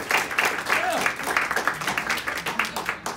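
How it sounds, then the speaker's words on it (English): An audience at a university welcome event applauds with a brief burst of clapping, dense at first and then thinning into scattered claps as it fades. "Let's give Andrew a round of applause."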